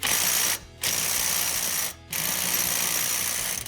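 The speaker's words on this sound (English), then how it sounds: "We're going to be taking that nut off of there, off the sector shaft." A ratchet wrench with a 42 mm (1 11/16 in) socket clicks steadily as it loosens the sector shaft nut on a Jeep Gladiator JT steering box, in two long runs of close, loud ratcheting separated by brief pauses.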